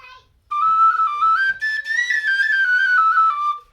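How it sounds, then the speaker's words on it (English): A Shearwater tin whistle in D plays a bright, sustained melody up close, notes sliding between pitches in a clean unaccompanied line for about three seconds. "So that's the D against several other whistles."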